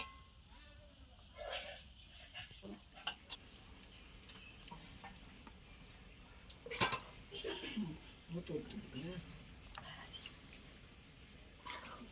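Cooked Malabar spinach greens with fish head being tipped out of a cooking pot, faint clanks and scraping of metal utensils against the pot amid quiet kitchen noise, with a voice speaking briefly.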